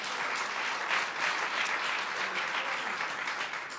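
Audience applause at a year-in-review event, steady dense clapping from a full crowd filling the whole stretch without talk.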